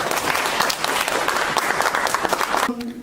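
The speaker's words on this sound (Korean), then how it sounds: "큰 박수로 우리 홍명 부청장님 모시겠습니다" A Bupyeong district gathering in Incheon greets its district head with loud crowd applause, dense clapping for nearly three seconds before it drops away and a voice begins.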